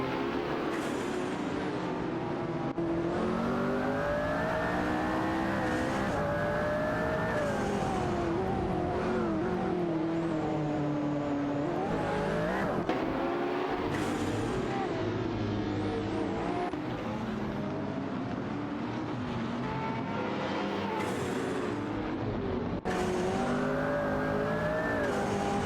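McLaren P1 race cars in a racing video game jostling for position, engines revving and shifting through gears as cars pass, a faint tyre squeal now and then, loud and continuous without speech.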